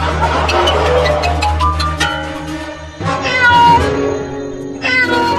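A cartoon cat meows repeatedly over a steady musical backing, its calls rising and falling in quick succession and close up, with a brief faint voice in the mix.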